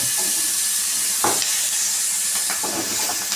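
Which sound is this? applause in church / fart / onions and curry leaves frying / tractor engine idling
onions and curry leaves frying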